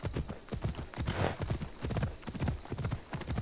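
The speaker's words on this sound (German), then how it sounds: "Komm zu mir, mein Ross. Ich habe auch keine Ahnung, worum es geht, aber lass uns reiten." Horse hooves clip-clop in a steady trotting rhythm with a brief whinny near the middle, from a mount being ridden in the Assassin's Creed Odyssey video game, close and clear with no talk over it.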